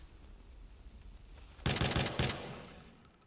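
Rapid bursts of gunfire in the video game Watch Dogs 2, with several loud sharp shots packed close together starting partway through and fading into a lingering echo.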